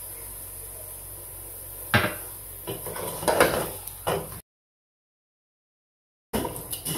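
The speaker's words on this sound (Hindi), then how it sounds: "चिकन डालकर इसको मैंने 4-5 मिनट तक भून लिया।" Chicken with onion and garlic-ginger paste fried in a pan for Sindhi biryani, heard as clattering utensil scrapes and knocks over a low sizzle, with a silent gap near the end.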